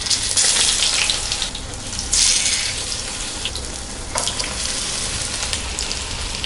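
Brinjal (eggplant) frying in oil in a pan for kathirikai varuval, a loud, steady hiss and crackle of sizzling oil with a few brighter bursts, heard close and without talk.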